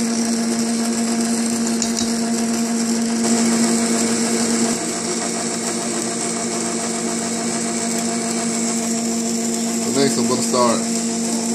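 An electric mixer whirs steadily through sour cream and lemon pound cake batter, a continuous motor hum that carries on beneath a person talking nearby.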